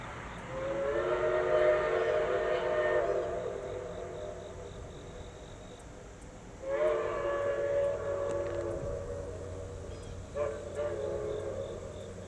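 A steam locomotive whistle on engine 4501 blows two long, harmonic blasts with a shorter toot near the end, loud against a low rumbling background during a mainline run.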